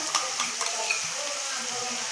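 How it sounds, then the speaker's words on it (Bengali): Garlic paste goes into browned onions for mutton curry and is stirred in the pan, a bright close sizzle with quick scraping strokes of a spoon, steady and without talk. "দুই চামচ পরিমাণ রসুন বাটা দিলাম"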